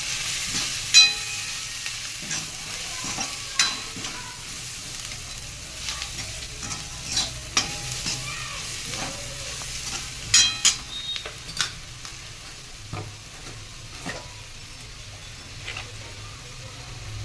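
Paneer curry spices with Kashmiri red chili are stirred in a pan, with a soft, low sizzle under intermittent scrapes and knocks of a spoon against the metal, spaced irregularly and fairly quiet.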